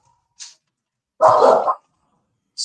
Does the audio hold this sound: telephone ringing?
no